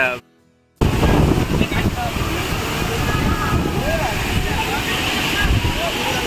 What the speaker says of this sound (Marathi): फायनली धबधब्याकडे पोहोचलो आम्ही